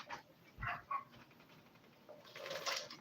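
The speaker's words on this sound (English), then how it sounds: "I heard a doggy." A dog barks a few times in short yips somewhere in a kitchen during soup cooking, faint and in the background against the room noise.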